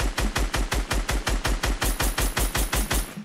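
Rapid automatic gunfire in Fortnite aimed at an enemy team's bed, a steady burst of evenly spaced shots at roughly six per second, loud and close, running unbroken for about three seconds with no talking.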